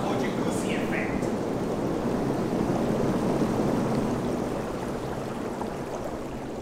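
A stand-alone bathtub with its jacuzzi jets switched on gives a steady, close rushing and bubbling of churned water that holds evenly throughout, easing slightly toward the end.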